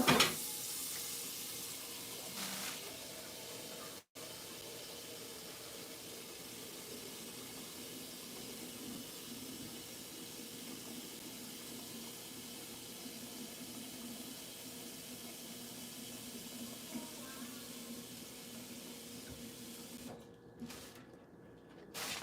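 Water in a pot boils with a steady, unbroken hiss and faint bubbling that continues for a long stretch, with a few brief bumps.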